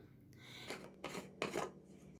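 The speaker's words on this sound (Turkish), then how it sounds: "Onun için kapağını gevşetiyorum ve tekrar sıkıştırıyorum." A plastic screw cap on a bottle of fermenting Adana-style şalgam is twisted loose and tightened again, giving three short, faint rasping turns close by.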